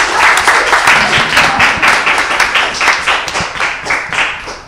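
Schoolchildren in a primary school classroom applaud loudly and close, a lively patter of many small hands clapping in uneven bursts that taper toward the end.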